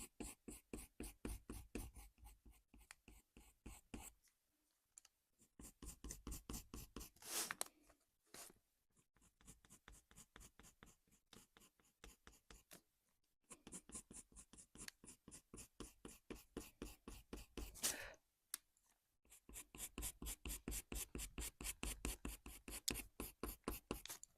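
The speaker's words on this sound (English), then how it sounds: "using a light to medium pressure just to glaze over. And this is the earth green pencil from the Polychromos range" Earth green Polychromos coloured pencil glazed across paper with light to medium pressure in fur-drawing strokes, a close, rhythmic scratchy scribbling in quick bursts separated by short pauses.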